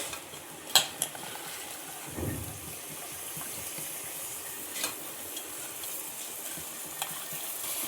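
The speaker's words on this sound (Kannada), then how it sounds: "ಸ್ವಲ್ಪ ಸ್ಮೆಲ್ ಹೋಗೋವರೆಗೂ ಹೀಗೆ ಫ್ರೈ ಮಾಡ್ತಾ ಇರೋಣ ಇದನ್ನು" Sprouted field beans (molake kalu) fry in a pan for a South Indian sambar, a soft steady sizzle running under a few sharp clinks of a spoon against the pan and occasional stirring scrapes.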